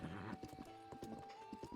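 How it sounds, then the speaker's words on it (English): A horse in a Zelda video game trots with quick, rhythmic hoof clip-clops, fairly faint, over a steady sustained music tone. "We got our horse ready to go."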